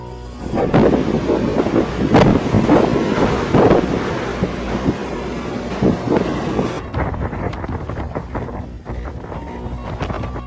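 Hurricane Helene's storm winds at landfall near Perry, Florida, roar steadily with loud, gusting buffets and rough broadband rumble throughout, easing slightly in the later seconds.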